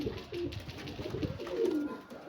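Domestic pigeons cooing nearby, a few repeated low throaty coos with soft rustling in between and no talking.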